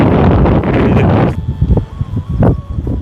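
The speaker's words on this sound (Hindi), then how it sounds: "तेज़ की हवा चल रही है दोस्तों।" Strong wind gusts across the microphone in a mountain village, a loud broadband roar that cuts off abruptly partway through, leaving scattered rustling and knocks.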